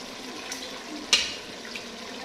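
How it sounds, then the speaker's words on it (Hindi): Beef stock (yakhni) for beef paya being strained into a cooking pot: a steady close pouring hiss of liquid, with a sharp splash or clink about halfway through and a faint second knock near the end. "अब मैं क्या करूँगी कि जो मेरे पास यखनी है उसको स्टेन करके इसके अंदर डालती जाऊँगी"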